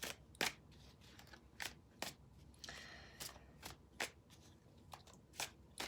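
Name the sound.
tarot cards being drawn and handled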